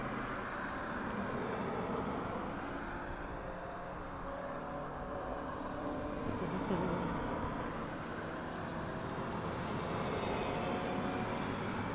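A Boeing 777 cargo jet on final approach at East Midlands Airport gives a steady, broad roar that holds at a moderate, fairly distant level throughout.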